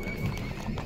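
A large mare at the Bishkek suburban horse market, with a short burst of horse sounds and hoof clatter amid busy outdoor market noise.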